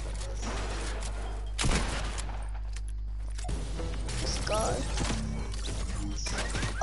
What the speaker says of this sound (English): someone's shooting at you